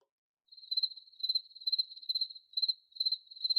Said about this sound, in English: you get the crickets.